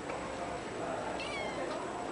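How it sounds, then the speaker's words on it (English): A Moroccan street cat in Fez meows twice, faint and fairly close, over steady outdoor background noise with a constant high tone. "Dirty old street cat."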